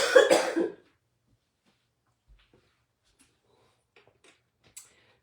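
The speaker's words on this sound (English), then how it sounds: "Hold on a second, I'm about to cough." A man coughs in a short, loud burst lasting under a second, coming while he has a cold, followed by near silence with a few faint small noises.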